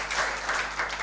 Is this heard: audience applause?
yes